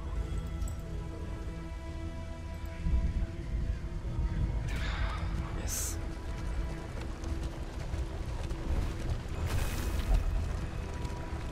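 Horses whinny and hooves clip-clop in the game Darkest Dungeon II, moderately loud over a soft bed of rain-like patter, with a few distinct neighing bursts standing out.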